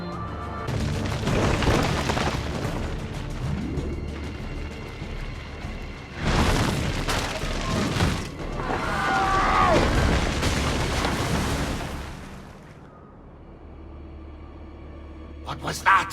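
Booming explosions from an Assassin's Creed II cutscene set in Renaissance Italy: several heavy, rumbling bursts roll through the scene, loud and reverberant, with character voices speaking around them.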